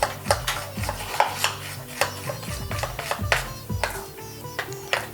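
Bhajiya batter with soda being stirred in a metal bowl, a spoon clinking and scraping against the sides in quick irregular strokes, close and fairly quiet with no talk.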